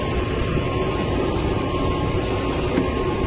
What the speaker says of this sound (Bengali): তো এই যে বিমানে উঠে যাচ্ছি,